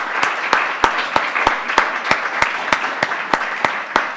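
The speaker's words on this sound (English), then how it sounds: "So please, a big applause for them" A conference crowd applauding, with a steady rhythm of louder claps standing out every third of a second over the dense clapping.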